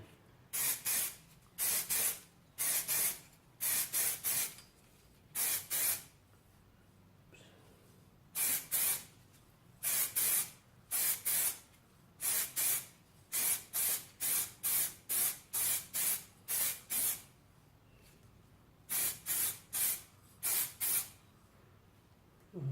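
Short bursts of aerosol spray paint applied to rim lock handles mounted on sticks for a first coat, about two dozen hissing blasts in irregular rhythm with brief pauses between, close and steady, no talking.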